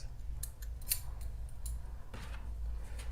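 Several quiet, crisp scissor snips cut crochet yarn, a few brief clicks close by over a low background hum.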